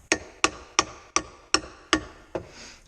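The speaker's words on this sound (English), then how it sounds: "Just going to give it some light taps with my hammer." Seven light, evenly spaced hammer taps on a part going into a Dodge Cummins transmission, each a crisp metallic tick with a short decay, close by.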